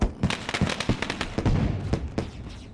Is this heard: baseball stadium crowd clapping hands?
no